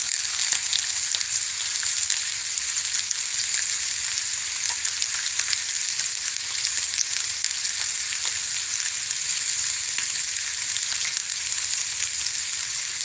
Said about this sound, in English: I guess you would want more of a sizzle